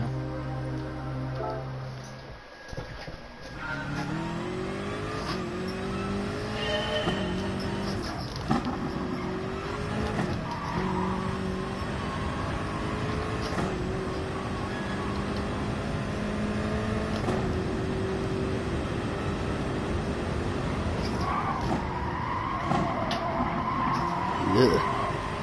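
Racing car engine revs up and down through the gears at Brands Hatch in a racing video game, with tire squeal in the corners and someone talking over the engine noise.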